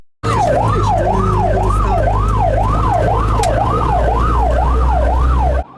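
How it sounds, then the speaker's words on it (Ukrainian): A fire engine and patrol cortege set off along Hetmana Polubotka Street in Rivne, Ukraine, with a loud, close wailing siren rising and falling steadily over the rumble of engines. "Пожежна машина та патрульний кортеж розпочинають рух з вулиці Гетьмана Полуботка"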